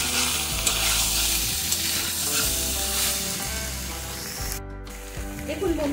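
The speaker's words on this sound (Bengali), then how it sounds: "আর আমরা আলুর সাথে মশলাগুলোকে খুব সুন্দরভাবে এদিক ওদিক করে ভালোভাবে" Potatoes with spices are stirred as they sauté in a pan, a steady loud sizzle with repeated scraping strokes of the spoon, close up and with no spoken words.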